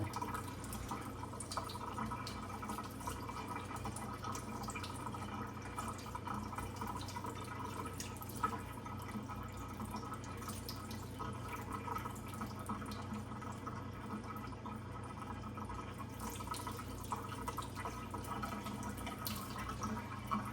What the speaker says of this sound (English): I'm using cold water, by the way. I don't run it under hot water.